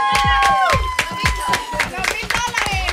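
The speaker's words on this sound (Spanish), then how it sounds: "¡Un aplauso!" Studio audience applause at a Spanish-language comedy awards show, a burst of brisk clapping mixed with cheers and voices, close and lively over background music.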